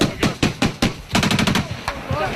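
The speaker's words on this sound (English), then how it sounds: "Oh, there's fire coming. They're shooting over there." Bursts of machine gun fire during combat in Afghanistan, several short rapid volleys, loud and fairly close, with a brief faint voice in between.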